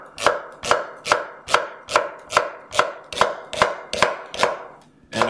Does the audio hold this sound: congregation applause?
no